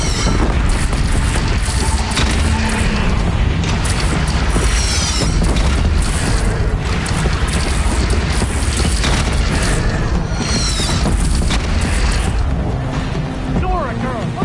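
Heavy cannon blasts in the Horizon Zero Dawn video game, loud booming shots and crashes packed tightly together over a steady wash of battle noise, with voices shouting over the din.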